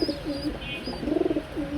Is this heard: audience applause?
no